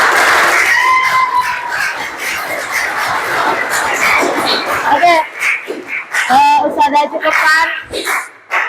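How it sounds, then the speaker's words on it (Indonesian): Classroom audience of children clapping at the close of a morning lesson, a dense, steady patter of many hands blending with chatter and a few shouts, thinning into scattered claps and voices near the end. "Tepuk tangan buat kita semua"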